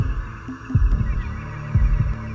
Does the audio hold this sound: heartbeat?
yes